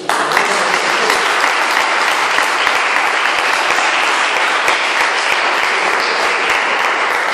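A church congregation applauds in praise of Jesus, a loud, continuous wash of many hands clapping together, steady throughout with no voices rising above it.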